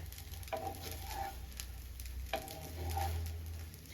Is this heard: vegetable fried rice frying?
yes